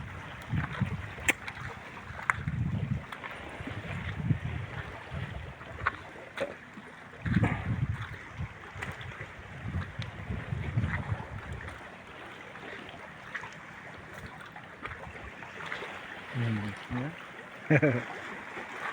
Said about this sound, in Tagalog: Ayan ang bangka.